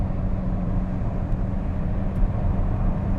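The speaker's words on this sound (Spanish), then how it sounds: "El motor necesita un tiempo para revolucionarse, ahora estoy pedal a fondo." A BYD Seal 6 DM-i plug-in hybrid engine held at full-throttle kickdown gives a steady, loud, low drone heard from inside the car, with no audible rise in pitch.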